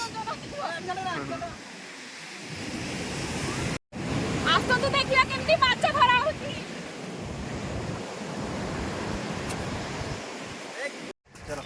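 Sea waves on Chandrabhaga beach at Konark roll in as a continuous broad roar mixed with strong wind buffeting the microphone, with voices talking over it in places.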